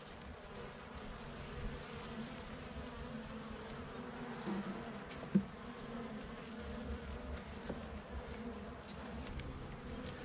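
Honeybees drone in an open beehive during a walk-away split, a soft continuous buzzing swarm with a brief closer pass, no speech over it.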